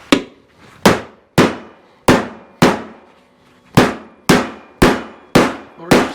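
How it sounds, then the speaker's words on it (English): Sharp metallic hammer blows strike the center of a sheet-metal bowl, about ten loud ringing clangs at a slightly uneven pace, each one decaying quickly, with no voices. "if we hammer the hell out of the center, it'll make a nice deep bolt."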